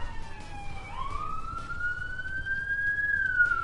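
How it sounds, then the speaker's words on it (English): A police car siren wails outside in the real world, a rising and falling tone that sounds distant and moderately loud over a low background rumble. "Can you hear that siren? That's like the real world and not the police cars in the game."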